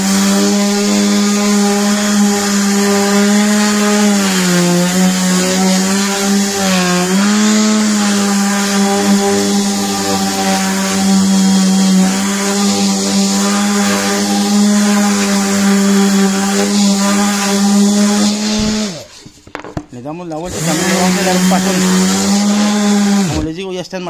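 Power sander grinding off damaged, cracked clear coat, a loud continuous whine with slight pitch dips, briefly cutting out near the end before starting again.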